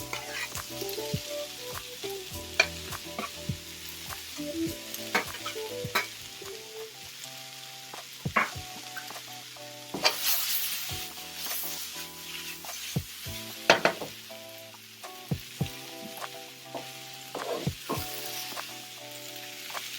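Eggplant stir-frying in a pan for a Thai chili paste dish, steady sizzling with frequent clinks and scrapes of a spatula against the pan, close up and without talking.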